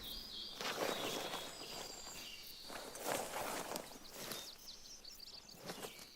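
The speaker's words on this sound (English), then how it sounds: "we're hearing footsteps." Footsteps of an animal or hunter moving through the terrain of the hunting game theHunter: Call of the Wild, a few soft crunching steps at moderate distance over a steady outdoor ambience with faint bird chirps.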